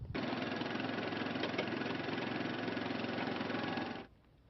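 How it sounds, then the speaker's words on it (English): A restored WWII M18 Hellcat tank's radial engine runs steadily and loudly for about four seconds, a dense continuous roar with a faint knocking pulse, then cuts off abruptly, leaving only low background hum. "It's powered by radial engines, one of the fastest tanks on the battlefield."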